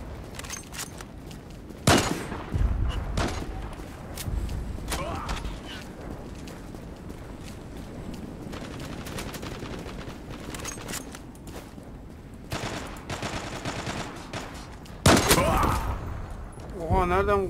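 Gunfire in a PUBG-style shooter on a Northern Iraq map, with sharp shots and short bursts cracking out at a few moments over steady game ambience while a player talks now and then.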